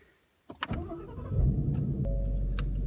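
A 2016 Ford Mustang GT V8 engine starts with a sharp catch and settles into a deep, steady idle rumble, close and fairly loud, with no talking.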